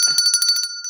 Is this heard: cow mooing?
no